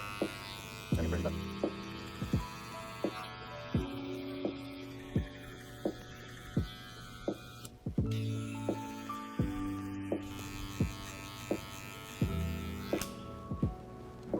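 Electric hair clippers fitted with a 1.5 guard hum steadily while cutting a taper fade, their tone shifting as they move over the head, with repeated faint clicks throughout.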